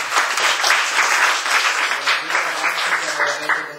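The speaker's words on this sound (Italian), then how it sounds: "Facciamo un applauso di benvenuta." Audience applause welcoming speakers at a book presentation, a dense, steady burst of clapping from a crowd, loud and close, lasting a few seconds.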